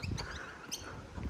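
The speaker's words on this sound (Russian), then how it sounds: "А вот эти птички, вот эти птички." Small birds chirp in short, bright bursts over a noisy outdoor background, the calls close but brief and scattered.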